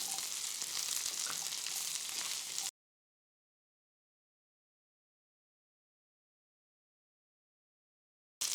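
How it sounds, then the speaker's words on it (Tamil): Shallots and garlic sauté in a pan for coriander chutney, giving a steady close sizzle and frying crackle for a few seconds before the sound cuts to silence, then briefly returns at the end. "அது கூடவே நம்ம பூண்டையும் சேர்த்து நல்லா வதக்கி எடுத்துக்கலாம்."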